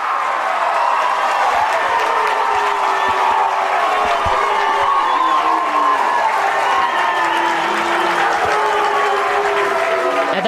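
A crowd of Lehi baseball fans roars and shouts steadily at the ballpark during a championship series game, a loud, sustained wall of cheering with scattered yells and applause throughout.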